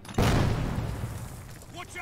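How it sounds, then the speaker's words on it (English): A loud explosion in the tactical video game Jagged Alliance 3 bursts in sharply and rumbles on with a long, heavy decay, with faint game sounds trailing at the end. "I think this calls out for a nice little explosion."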